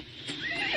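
A horse whinnies once, close and clear, rising into a short high neigh that lasts under a second.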